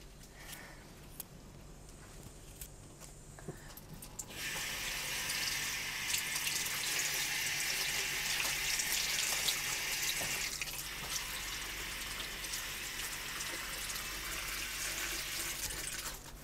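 A tap is turned on after about four seconds and water runs steadily and fairly loud for the rest, a broad continuous hiss with no voices.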